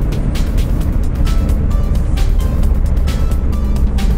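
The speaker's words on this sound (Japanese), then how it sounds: "こういうねコーナーとか楽しいですよこの車は。" A Honda S660 driving through corners, its engine and road noise a steady, loud broadband rumble throughout with no break.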